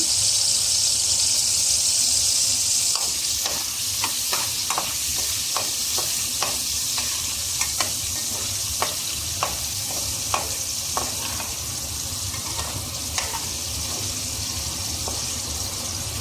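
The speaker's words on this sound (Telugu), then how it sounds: "ఇప్పుడు మనము ఈ పన్నీర్ని కూడా వేయించుకుందాం" Paneer frying in a pan, with a steady bright sizzle and repeated clicks of a spatula scraping and turning the pieces, close and fairly loud.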